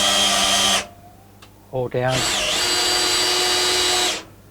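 A standard battery drill whirs loudly while turning a three-pin adapter on a milling machine, stops briefly with a short pulse and a spoken word, then runs steadily again before cutting off.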